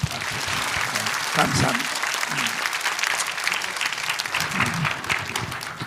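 Applause from a church congregation fills the room, steady and full throughout, with a voice speaking briefly over it.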